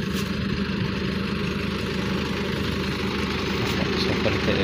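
A rice combine harvester engine runs in an Indonesian paddy field, giving a steady, unbroken mechanical drone with a low rumble and a constant hum. The level stays even throughout, and no voices are heard.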